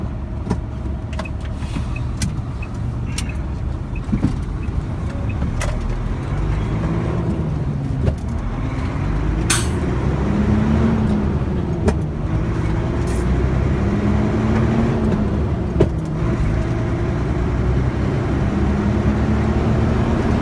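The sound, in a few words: Sinotruk truck engine during gear changes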